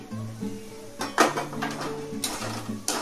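Taro stolons go into a pan for a curry and are stirred, with a spoon or spatula clinking and scraping against the metal in irregular bursts at close range.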